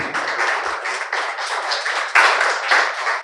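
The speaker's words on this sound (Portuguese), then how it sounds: "Você pode aplaudir Jesus Cristo?" A church congregation claps together during a Portuguese-language sermon, producing a dense, steady burst of hand claps that holds for a few seconds, close and fairly loud with no voices over it.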